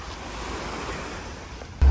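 Sea surf rolling onto a beach near the Sarpi border crossing on the Georgia–Turkey coast, a steady broadband wash of waves with some wind, alone and at moderate level, ending in a brief louder bump.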